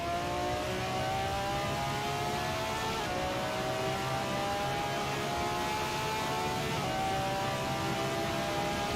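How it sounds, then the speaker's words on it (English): An Aston Martin DTM race car engine in a racing sim video game holds a steady, sustained drone with smooth pitch shifts as it revs, continuous and fairly loud throughout with no voices. "So taking a look at some of these cars, this is how the Aston Martin sounds."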